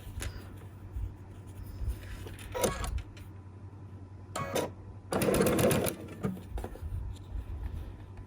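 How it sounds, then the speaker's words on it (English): A sewing machine stitches pieced Tula Pink butterfly quilt sections in short bursts, its whirring motor starting and stopping, fairly close and moderately quiet against a low steady hum. "I want to make sure I'm sewing with the pieced side up"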